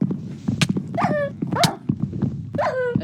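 Several short dog barks and yips from a dog in Minecraft, in quick succession, fairly close, over a busy background of thuds and game noise.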